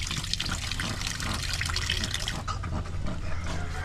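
A tap runs at an outdoor grill area, a steady gushing stream of water splashing continuously at close range, alone without speech.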